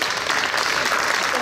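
Audience applause at an evening talk on the spirituality of communion, a brief, dense burst of steady clapping from a seated crowd.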